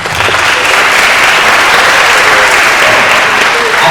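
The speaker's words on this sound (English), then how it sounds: "give a round of applause to Young Money" Loud, continuous, densely packed applause from a hall audience at a school English speaking competition final at Vajiravudh College, even in level from start to finish with no pauses.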